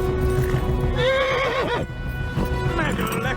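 Horse in Kingdom Come: Deliverance whinnies loudly in a rising-and-falling neigh over steady galloping hoofbeats, with a second shorter whinny near the end, under a busy game mix.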